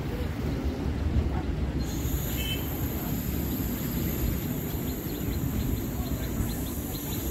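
A Tarakeswar-Goghat local train rolls along the rails as it enters a single line, a continuous rumble of wheels with a thin high squeal rising partway through, heard from on board.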